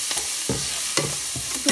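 Papaya bhaji with turmeric stirred in a hot pan, a soft sizzle broken by four distinct scraping strokes of a spatula, close and alone.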